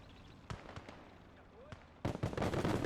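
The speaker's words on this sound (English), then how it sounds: "Big explosions." Scattered sharp bangs and pops at a distance, then a louder, denser burst of blasts near the end, like explosions in a battle, in the video game Gates of Hell during a 1v1 PvP match.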